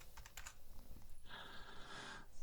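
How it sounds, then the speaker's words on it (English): A short run of close, quiet computer keyboard keystrokes entering an amount, a few quick taps followed by a brief sustained electronic tone, with no speech. "Here type how much you want to buy."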